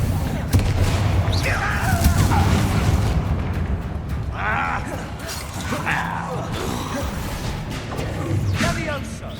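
Confringo fire-spell blasts in the Hogwarts Legacy game, repeated booming explosions over constant battle noise and music, with a shouted spell and other voices over the top.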